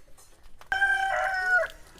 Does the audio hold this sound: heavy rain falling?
no